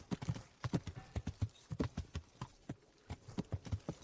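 Rhythmic clip-clop of horse hooves trotting at a steady pace in the video game Kingdom Come: Deliverance, fairly close and distinct, with no voices.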